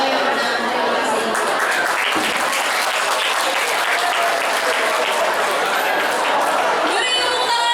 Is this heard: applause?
yes